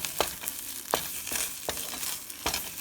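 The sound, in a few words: rice and vegetables frying in pan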